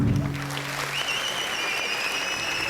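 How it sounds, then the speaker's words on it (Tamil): Audience at a welcome address breaks into steady applause, dense clapping from a crowd filling the room, with a voice fading out at the start and a high tone lingering above. "எல்லோரும் ஒரு பலமாக கைத்தட்டுங்க பார்ப்போம்."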